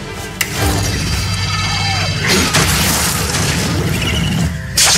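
A fire signal explosion in the video game Marvellous Playground booms out loud near the start and blends into a busy, sustained game soundscape of rumbling and layered effects, with further bursts of noise later on.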